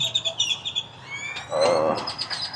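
Birds chirp and tweet in the early morning beside a 7-Eleven fuel stop, a run of short bright calls and then a longer warbling phrase, moderately near with no talking.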